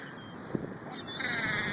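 Seagulls gather close around someone holding food, and a few short, fairly faint caws and squawks come through over a soft outdoor wash.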